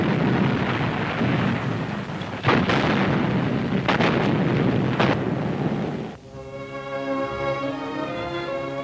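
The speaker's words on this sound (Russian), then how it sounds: "В этот день небо Москвы впервые украсилось огнями победного салюта." A victory salute gun salvo booms over Moscow in an archival 1944 newsreel. Heavy, rumbling artillery blasts overlap for several seconds with a few sharp reports, then give way to orchestral music.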